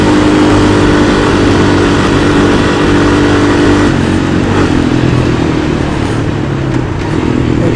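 A Honda Foreman 400 ATV engine revs hard in fifth gear toward top speed, a loud, steady droning roar with a slight shift in pitch midway, heard close from the rider's position.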